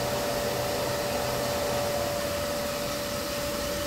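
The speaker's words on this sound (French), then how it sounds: "Et on entend encore l'aspirateur." Steady, loud whirring drone with a constant high whine, running unbroken throughout like a vacuum cleaner motor, no voices.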